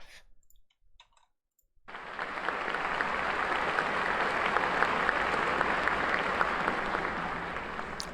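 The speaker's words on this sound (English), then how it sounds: "The feeling of being at the opera with the applause" Audience applause at an opera fills the hall after a near-silent opening, a dense, steady wash of many hands clapping that stays loud and even to the end.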